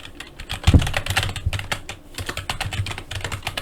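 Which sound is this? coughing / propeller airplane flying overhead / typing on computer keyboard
typing on computer keyboard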